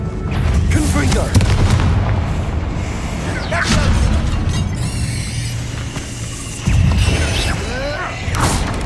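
The Confringo blasting curse in Hogwarts Legacy sets off repeated booming explosions amid a dense, loud barrage of spell effects and combat noise, with a voice calling out in the middle of it.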